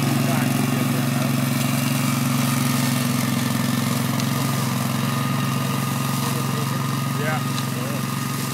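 The engine of a Spider ILD02 remote-control slope mower runs at a steady, even drone without lugging, heard at moderate distance under faint talk.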